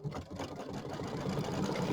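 An embroidery machine hums and stitches a tack-down line on a quilt-style block, a steady close mechanical whir with faint rhythmic pulsing, no voices.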